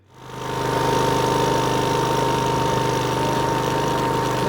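Zero turn ride-on mower engine fitted with a trimmer attachment starts up and settles into a loud, steady running drone with a rough mechanical rattle, close by, without any speech.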